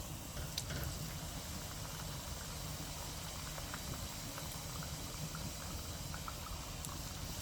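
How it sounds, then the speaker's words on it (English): Continuous dense hiss and crackle of ackee and saltfish and chicken hot pockets frying in hot oil, steady and close, with no talking. "Sizzling hot."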